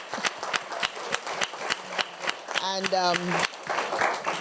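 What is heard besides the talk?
audience applause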